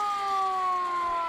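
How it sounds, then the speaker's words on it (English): A hand-cranked siren on a fire apparatus in a parade wails with a steady, sustained tone that holds loud and close for the whole short stretch. "Look at that like hand siren"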